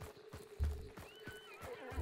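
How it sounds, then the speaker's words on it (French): A horse in the video game Hunt: Showdown whinnies at night, a faint high neigh over soft rhythmic hoof clops, heard at low level. "Ah, cheval."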